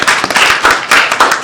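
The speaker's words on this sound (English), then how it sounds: "I'd like to give a quick short round of applause to our finalists" A short burst of applause for moot court finalists at the Duke Law Jessup Cup final round, loud, close, uneven clapping from a small audience with sharp individual claps.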